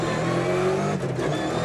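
A rally car at the 1995 Lurgan Park Rally accelerating hard up through the gears toward the fastest part of the course, a loud, continuous engine roar with a brief dip around a gear change.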